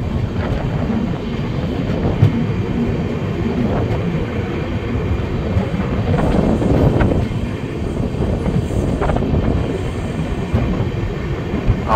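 The 13126 Sairang-Kolkata Express running on its first commercial journey, heard from inside as a loud, steady rumble of wheels and carriage noise with constant rattling throughout, no voices.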